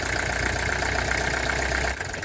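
Perkins diesel engine in a 1959 Plymouth taxi idling, a steady loud knocking chug close by with a brief dip in level near the end.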